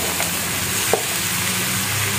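Vegetables for pinakbet hit a hot pan with tomatoes, a steady, close frying sizzle and a short clatter of stirring partway through, with no talking.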